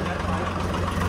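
Tractor engine running, a loud steady low rumble close by with a constant throb, while voices talk over it.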